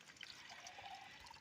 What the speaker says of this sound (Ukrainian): Потім беремо воду, наливаємо сюди